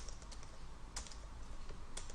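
Keystrokes on a computer keyboard while writing PHP code for a date-and-time program, a quiet run of scattered clicks with a few sharper taps, close and alone over a low background hum.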